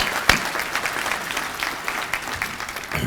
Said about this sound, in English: give Wayne, Kelly, Barbara, Sharon, Sherry, and Bonnie a big round of applause